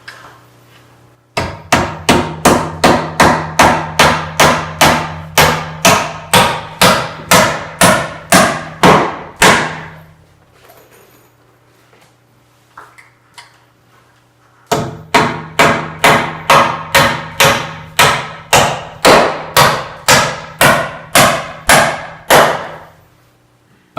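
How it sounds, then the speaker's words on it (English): Sixteen-penny nails being hammered into metal joist hangers on a storage loft build, two long runs of loud, evenly spaced ringing hammer blows separated by a quiet pause. "let's go ahead and nail this side on this one"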